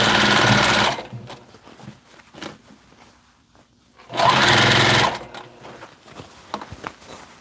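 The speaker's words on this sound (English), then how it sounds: "Now after stitching I will iron it." Electric sewing machine stitching fabric layers in two loud, steady bursts of about a second each, separated by quieter handling noise and small clicks.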